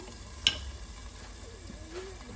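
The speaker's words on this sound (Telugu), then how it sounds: "జింజర్ గార్లిక్ పేస్ట్, పసుపు కలుపుదాము" Ginger garlic paste and turmeric sizzle in a pan for a green beans and potato curry, a faint steady hiss with one sharp clink of a utensil.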